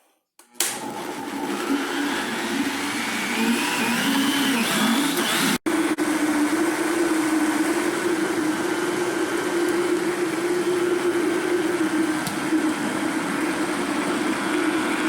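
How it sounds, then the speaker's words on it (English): A blender whirs steadily while making a banana smoothie, loud and continuous with a fluctuating motor drone, a brief dropout about a third of the way in, then running on without any talk. "wait for the blender to almost stop and put it in"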